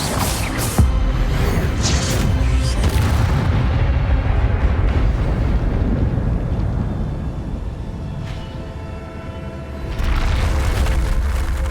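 Spell effects for Incendio and Expelliarmus cast in Hogwarts Legacy, heavy booming blasts and rumbling impacts that fill the space continuously, with a fresh loud burst toward the end.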